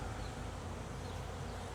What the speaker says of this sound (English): This is a full box of bees.